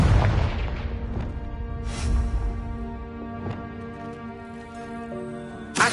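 A Confringo fire spell blasting in Hogwarts Legacy, one deep booming explosion at the start that rumbles and decays, followed by quieter game effects and a sharp burst near the end.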